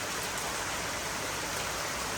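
Steady rain falls on a garden koi pond, an even, close hiss of drops striking the water with no voices.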